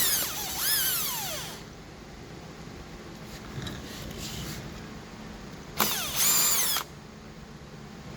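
A power drill runs in two short whirring bursts, spinning up and winding down, while screws are backed out of an LED billiard table; a quieter stretch of faint handling noise fills the gap between them.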